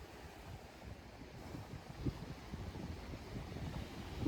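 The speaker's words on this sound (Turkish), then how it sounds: "Bugün hava bayağı bir rüzgarlı. Deniz dalgalı." Steady wind rumble and rough sea surf on the Bodrum coast wash over the whole clip, with low gusty buffeting and a faint crash of waves, no voices.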